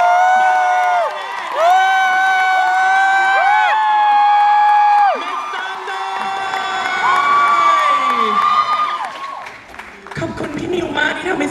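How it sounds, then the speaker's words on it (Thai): A fan event crowd greets a guest with loud cheering, high-pitched screams and whoops over clapping, the shrieks rising and falling in waves, ending with a brief quieter moment of murmuring. "เสียงปรบมือต้อนรับดังๆ นะคะ"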